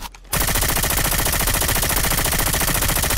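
Rapid automatic gunfire from a video game rattles continuously after a brief quiet start, a dense, steady burst of shots heard close and loud throughout.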